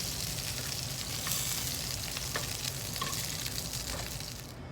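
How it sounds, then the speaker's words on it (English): Diver scallops searing in a hot pan, a bright continuous sizzle with scattered crackles and spits, steady and close, easing slightly at the end. "We'll flip them all over and get a nice sear on the other side."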